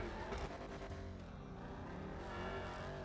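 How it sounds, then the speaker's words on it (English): A steady V8 engine drone from a video-game Vapid Dominator GTX muscle car, with layered harmonics, a brief rise in pitch and then a sustained growl, loud and close, no talking. "Sounds pretty sick. Sounds just like a V8,"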